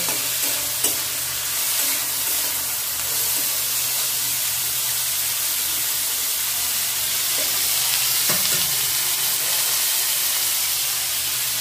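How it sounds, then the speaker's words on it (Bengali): Daliya pulao ingredients fry in a pan over a low gas flame, giving a steady sizzle and hiss with occasional soft stirring scrapes and clinks, close and without talk. "সবগুলো উপকরণ আমি একটু ভাজা ভাজা করে নেব।"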